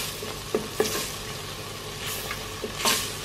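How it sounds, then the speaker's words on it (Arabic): Canned tomatoes fry in a pan with a soft continuous sizzle, broken by a few louder stirring scrapes and spatters, close by and without talk. "نقلي شويه الطوماطيش تاعي"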